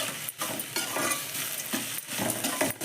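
Onion with turmeric, chilli powder and curry masala being stirred in a pan for poori masala, giving a steady close sizzle and frying hiss with scraping stir strokes, no voices.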